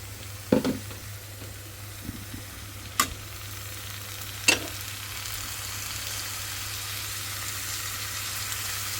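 Spice paste frying and being stirred in a pan gives a steady, fairly quiet sizzle throughout, broken by a few sharp scraping clinks of a utensil against the pan. No one talks.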